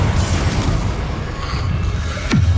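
Confringo spell explosion in Hogwarts Legacy on PC, a low rumbling boom with debris noise, then a sharp swooping cast sound near the end.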